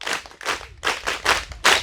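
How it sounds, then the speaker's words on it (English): A school audience claps for visiting guests in a few short, rhythmic bursts of hand claps, loud and close, with brief pauses between each round. "I would request the whole school to give a hand clap to the visitors"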